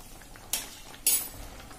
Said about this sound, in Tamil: ஒரு வாட்டி நல்லா கலந்து விட்டுக்கங்க.